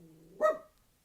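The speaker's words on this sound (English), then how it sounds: "Oh, that's my dog." A single sharp bark from a pet dog indoors, short and fairly faint, rising out of a quiet low hum and fading quickly; no talking.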